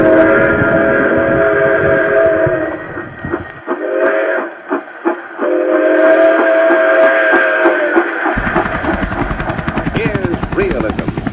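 A postwar Lionel toy model train hums and clatters steadily, with a whistle tone sounding over the rumble, loud and continuous throughout.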